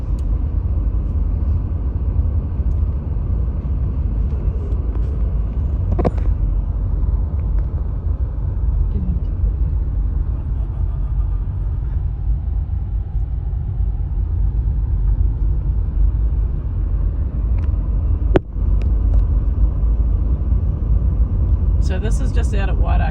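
A car rolls slowly along a road at Wairakei, north of Taupo, New Zealand, through wind damage left by Cyclone Gabrielle. A steady low engine and road rumble runs throughout, with one brief knock near the end.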